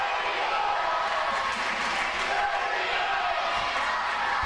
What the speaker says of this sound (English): The Belleville crowd's trying to drown out the football boys